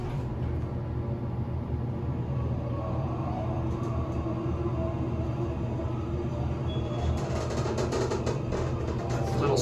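A small generic hydraulic elevator at a university kinesiology school runs with a steady loud mechanical rumble and hum, slightly squeaky, continuing without pause.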